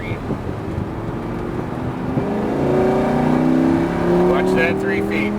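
A Lamborghini Huracán LP610-4 on a track at Joliet gets a little gas, its engine note rising in a smooth, moderately loud climb that settles into a steady drone, heard from inside the car.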